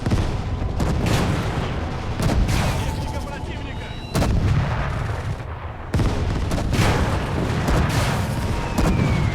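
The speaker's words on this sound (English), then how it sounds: "I think I'll actually bring in artillery fire here." Heavy artillery bombardment in the Call to Arms - Gates of Hell Eastern Front game, with repeated loud booming blasts and crackling gunfire in near-continuous waves, close and intense.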